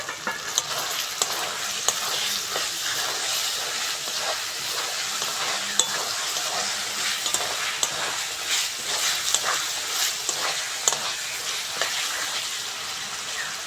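Fried potatoes stirred into sizzling spice masala for a simple curry to eat with roti: a steady loud sizzle and frying hiss, with scraping stirring clicks throughout and no talk.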